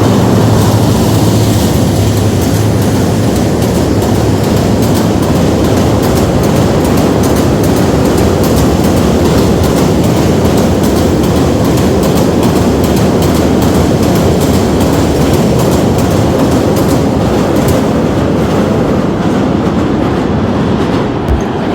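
A train crosses a bridge on the line toward Gazipur, producing a loud, unbroken roar of wheels and carriages that lasts over twenty seconds, close by and with no talking.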